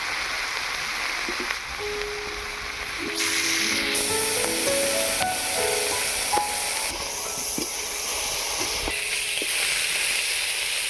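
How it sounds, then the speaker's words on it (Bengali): Prawns coated in salt and turmeric frying in mustard oil in a hot pan, giving a steady hiss and sizzle that swells partway through and stays close and even, with faint clinks underneath. "প্রথমে চিংড়ি মাছগুলোকে ভেজে নেব।"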